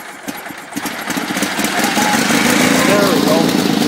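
Small two-cylinder engine of a 1974 Sears Suburban SS16 garden tractor catching after starting, its close, loud putter settling into a steady idle, with a voice heard over it.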